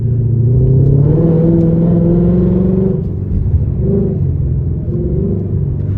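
A tuned Ford Mustang GT V8 running E85 with basic bolt-ons rumbles and revs, pitch climbing then dropping back, with a few shorter rev blips afterward, loud and close.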